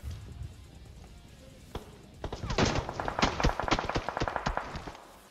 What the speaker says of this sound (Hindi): यहाँ पे पीछे से भी गोली चलने लगती है